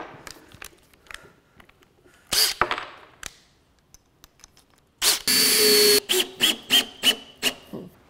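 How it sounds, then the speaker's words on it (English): A power drill countersinks holes in plywood in bursts: short whirring runs early on, then a long loud spin followed by a rapid series of brief drilling pulses, close and distinct. "we're gonna countersink some holes so it looks nice"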